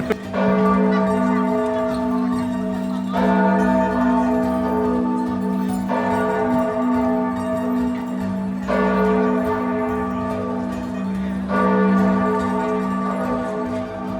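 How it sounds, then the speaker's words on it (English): Church bells in Florence, Italy ring loud and steady, their deep tones swelling and renewing in regular strokes about every three seconds, with no voices over them. "The bells were going off."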